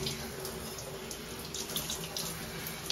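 A shower head on a gentle setting rinses a bike in a shower, producing a steady, dense spray of water hitting the frame and tiles, close and continuous with no talking.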